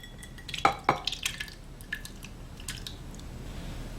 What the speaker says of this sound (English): the first ingredient we're gonna put inside our recipe is about 1/2 can of no salt added diced tomatoes